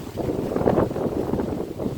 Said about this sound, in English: as you can see it's still very windy